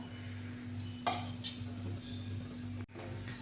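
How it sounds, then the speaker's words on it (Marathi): Dry coconut roasting in a pan along with cumin and sesame seeds gives soft scraping and a couple of clinks of a utensil against the pan over a steady low hum, with a sharper knock near the end. "सुकं खोबरं खरपूस भाजून घ्यायचं आहे"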